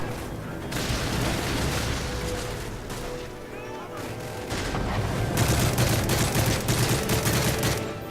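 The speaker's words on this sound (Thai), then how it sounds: "ระเบิดแสง" A flashbang grenade goes off in Call of Duty: Modern Warfare 3 amid gunfire and combat noise, a loud broadband blast with a ringing tail that gives way to continued bursts of shooting, under a player's voice.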